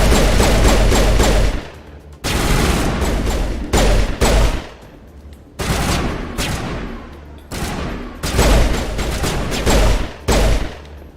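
Rapid bursts of gunfire from the sci-fi shooter game Mass Effect Legendary Edition, loud and close, coming in several dense volleys separated by short lulls, with heavy low thumps under the crackling shots.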